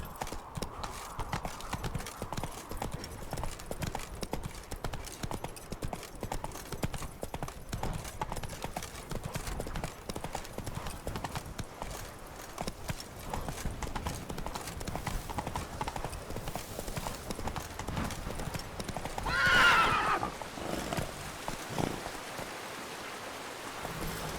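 Horse hooves clop steadily in the rain in The Witcher 3, with a continuous patter of rainfall beneath and a brief louder burst near the end that may be a whinny.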